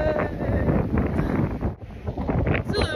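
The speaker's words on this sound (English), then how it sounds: "It's a little windy, it's a little cold" Steady, heavy wind buffeting a microphone on the top deck of a cruise ship at sea, roaring and rumbling throughout with a brief dip near the middle, close and loud.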